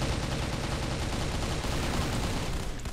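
Rapid FN F2000 rifle fire in the CrossFire shooter game, a dense continuous rattle of close, loud automatic shots for the whole stretch with no voices over it.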